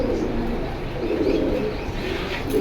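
Pigeons coo at Jinjira bazaar, a bird market, in a steady low warbling chorus with busy market ambience around it.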